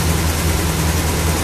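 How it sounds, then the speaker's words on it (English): An MGB engine fitted with a Weber DCOE carburettor and long branch manifold idles roughly, a loud, steady low rumble with an uneven, lumpy pulse and no voices. "that's why that engine's running and idling rough like it is right there"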